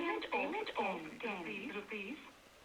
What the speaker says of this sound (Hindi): जब भी पेमेंट आएगा आपका मोबाइल ही बोलकर बता देगा